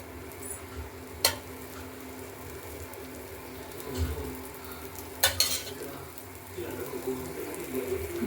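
Dosa cooking in oil on a pan, a soft continuous sizzle with occasional sharp clinks of a utensil against the pan and faint stirring, fairly quiet and close.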